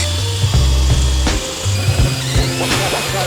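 A hole saw cuts a piece of metal into homemade washers, giving a loud grinding, whining drill sound with low rumbling pulses that ease off briefly midway and then resume, close up with no talk.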